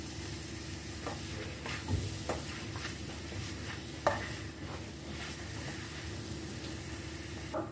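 A vegetable kabab mixture with soy sauce and chili sauce stirred in a bowl, soft continuous mixing and squelching with occasional light taps of the spoon, faint and close against a low background hum.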